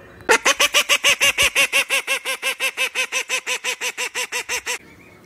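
A farmyard duck gives a long, steady run of about twenty loud, evenly spaced quacks close by, then falls silent.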